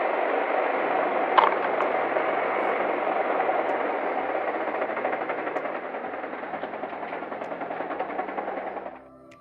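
A motorbike engine on a road passes close by, a loud steady buzzing roar that holds for several seconds and then falls away abruptly, with no voices.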